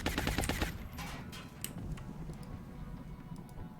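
A rapid burst of automatic gunfire from a soldier's shot in the strategy game XCOM: Long War opens loudly, then gives way to a few scattered, fainter shots and rattles, with no voices.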